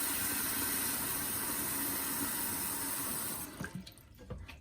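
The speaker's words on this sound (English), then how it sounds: "I'm going to go ahead and put enough water in this pan that I can submerge my mouthpiece" Tap water runs steadily into a pan, a broad rushing stream that stops abruptly near the end, leaving a few faint drips and clinks.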